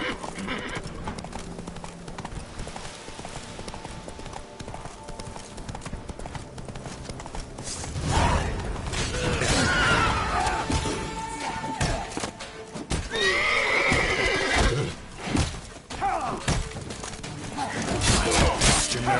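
Roach, the horse in The Witcher 3, gallops with steady clip-clopping hooves, swelling louder midway and joined by loud neighs, while a voice speaks briefly over the game sounds.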